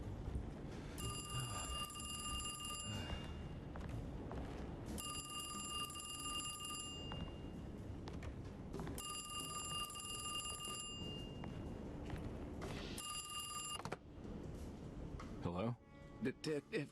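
A phone rings inside the Alone in the Dark video game, four repeated bursts of an electric bell, each about two seconds long and evenly spaced, heard over a steady rumble of background noise.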